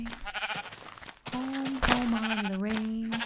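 Sheep bleating in the Minecraft 1.2.5 video game, with a modded setup, giving several wavering, drawn-out bleats close by, with a pause in the middle.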